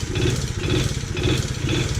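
A TaoTao 110cc motorcycle engine that smokes heavily runs close by with a rough, pulsing clatter. It holds a steady uneven beat for a couple of seconds, loud and alone.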